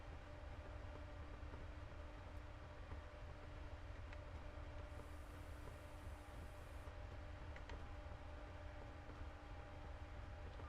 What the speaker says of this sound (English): Hear the fans and the loco going as I expel energy.